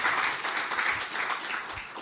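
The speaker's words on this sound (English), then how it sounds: "Can we just give him a round of applause?" An audience at a financial inclusion forum applauds a speaker, a steady, moderately distant round of clapping throughout with no talking.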